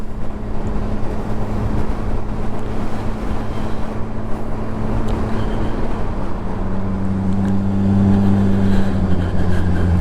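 A fast motorbike engine drones steadily while riding on a cold day at the speed limit, with low engine hum and rushing wind noise throughout.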